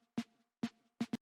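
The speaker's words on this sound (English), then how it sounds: "added this plugin called the RC20 Retro Color, and then they have a preset called Snarify" An ocarina sample processed with the RC20 Retro Color plugin's Snarify preset gives four short, punchy snare-like hits, two spaced apart and then a quick pair, quiet and dry, with no voices.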